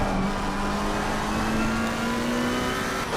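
A race car in Assetto Corsa Competizione at the Nürburgring GP circuit holds a loud, steady engine drone with a slowly rising pitch as it overtakes, close and continuous throughout with no talk.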